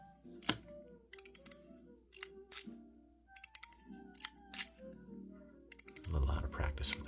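Sharp mechanical clicks from a GAO Studio Mechanical Cashew V2 fidget toy in stainless steel with a black Delrin part, coming in quick bursts of a few clicks each, close and crisp, then a rougher rustling handling sound at the end.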